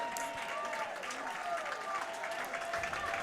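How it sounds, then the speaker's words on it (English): Football crowd at a Chapman versus Cal Lutheran college game cheers and applauds, dense clapping and shouting from the stands holding steady throughout, with voices mixed into the roar. "The crowd is excited here, showing their support."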